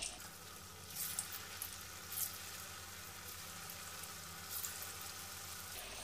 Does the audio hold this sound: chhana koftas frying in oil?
yes